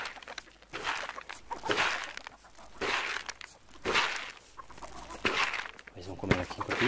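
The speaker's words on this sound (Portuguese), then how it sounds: "Eu quero ver essas galinhas voando." Chickens cluck in an outdoor yard, their calls coming in irregular bursts at moderate distance, mixed with rustling footsteps and movement, while people talk at times over them.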